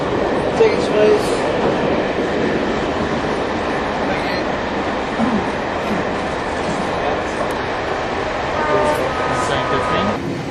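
Steady rumble of a moving train heard from inside the carriage, a continuous broadband roar with faint rattles and occasional murmured voices in the background throughout.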